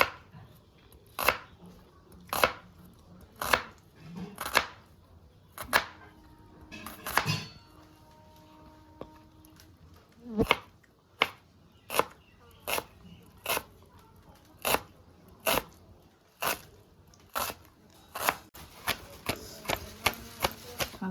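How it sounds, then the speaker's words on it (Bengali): A knife finely chops onion, green chilli and curry leaves on a board for sooji upma, making a series of crisp, separate chops that speed up into quicker, closer strokes toward the end. "পেঁয়াজ, লঙ্কা আর এই কারি পাতা সব ভালো করে ধুয়ে নিয়েছি। এবার এগুলো আমি একটু কেটে নিচ্ছি, আর একদম কুচি কুচি করে কাটতে হবে"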